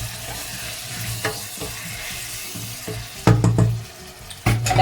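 Pilau rice with browned beef, salt and pilau masala stirred in a pot, a few scraping stirs with soft background hum and brief louder bursts near the end, no talking.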